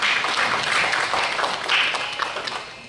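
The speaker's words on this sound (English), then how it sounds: "please give yourselves a big round of applause" Guests at an evening honoring ceremony clap together in a steady, dense round of applause that holds for a few seconds, heard close.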